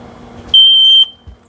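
Smoke alarm being tested inside a camper van: one loud, piercing high electronic tone blares for about half a second after some handling noise, then cuts off abruptly, followed by a soft thump.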